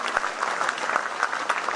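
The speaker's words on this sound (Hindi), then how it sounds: "एक बार जोरदार तालियां बजाइए।" An audience at a Hindi poetry recital claps together in a steady, lively burst of applause, close and continuous for the whole moment.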